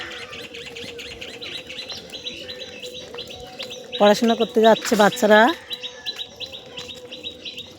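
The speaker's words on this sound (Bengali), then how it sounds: "আর দেখো কত সুন্দর পাখি ডাকছে চারিপাশে," Birds chirping around a village on a morning walk, small repeated tweets through the background with a burst of louder calls midway, while a person speaks over them.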